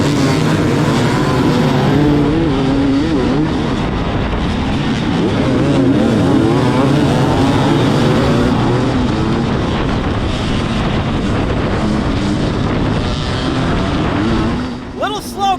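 Enduro dirt bikes on the starting line of the 2020 Bad Medicine Hard Enduro, race 2: loud, continuous engine revving and roaring close by with wind buffeting, easing slightly near the end.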